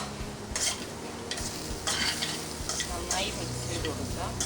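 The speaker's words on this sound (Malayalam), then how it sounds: "നന്നായി മിക്സ് ചെയ്ത് കൊടുക്കാം." Beetroot thoran being stirred in a pan, with a steady sizzle of frying under repeated scraping strokes of a spoon against the metal, close and continuous.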